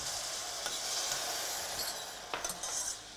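A port wine, thyme and red wine reduction is added to morels in a buttered pan. A steady, faint sizzle runs throughout, with a few light clinks of stirring near the end and no talk.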